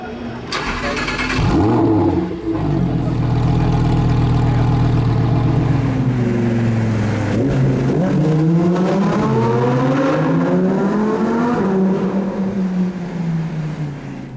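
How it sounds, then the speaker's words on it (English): A loud Lamborghini V10 engine starts with a sharp burst, settles into a deep idle, then revs repeatedly in rising and falling sweeps. "I love the V10 engine. Oh, it sounds so good."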